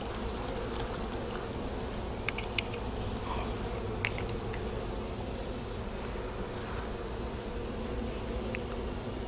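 Honeybees drone steadily at an open hive during an inspection for small hive beetles, a dense continuous hum from many insects close by with a few brief higher clicks and taps; no one talks.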